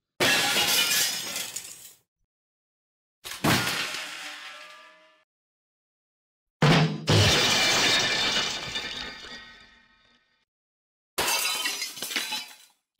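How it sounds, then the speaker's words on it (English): AI-generated comedic item-drop effects with a big crash: four separate loud bursts of shattering, breaking glass, each with a clattering tail that fades out, alone with no speech. "Now let's try comedic item drop with a big crash."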